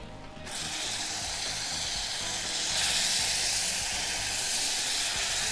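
Butter and sugar sizzle in a pan with pears: a loud, steady hiss that starts abruptly, holds without a break and swells slightly partway through.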